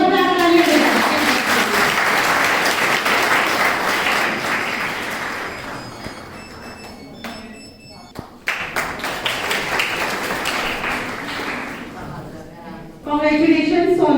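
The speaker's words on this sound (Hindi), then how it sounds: "जोरदार तालियां दें" A college spring festival audience applauds a student who topped the university in the overall M.Com exam: sustained loud clapping that thins out, then resumes strongly, with a speaking voice returning at the end.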